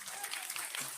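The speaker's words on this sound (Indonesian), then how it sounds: "Kita beri tepuk tangan lah." Brief burst of congregational clapping at a Christmas Mass in a parish station in Tanjung Jabung Timur, a quick dense patter of many hands, fairly soft and distant.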